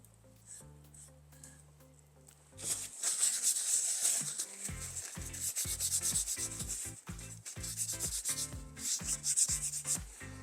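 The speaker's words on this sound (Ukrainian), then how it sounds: "І беремо ганчірку і залишки витираємо." Rag rubbing leftover oil off a wooden lamp shaped like a dog, a close, steady scrubbing swish in repeated strokes after a quieter start.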